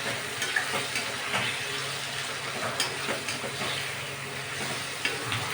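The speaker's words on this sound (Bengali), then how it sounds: "এবার এটাকে আমি ভালো করে কষাবো" Paneer chicken with onion, ginger, garlic and green chillies sautéing and being stirred in a pan, a steady close sizzle broken by scraping spatula strokes at irregular intervals, no voices.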